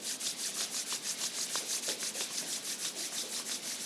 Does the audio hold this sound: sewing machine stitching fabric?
no